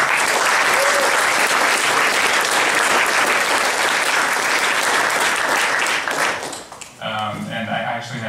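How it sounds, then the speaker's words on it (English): A loud, dense round of audience applause after startup pitches at a Duke competition fills most of the stretch, then fades as a voice begins speaking near the end. "so just a round of applause for everyone."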